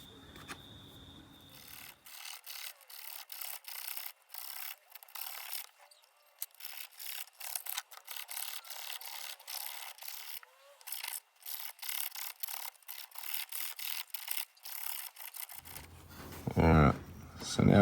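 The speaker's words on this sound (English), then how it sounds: "So now it's a bit of filing on the inside, get rid of this sharp edge." File rasping against the inside of an opal inlay ring, a long run of close, quick back-and-forth scraping strokes in a steady rhythm, with a short burst of louder handling at the end.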